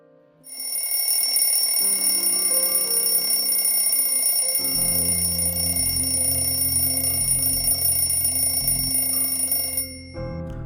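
An alarm clock rings loud and close in a continuous shrill electronic or bell-like tone, sustained for about eight seconds before cutting off.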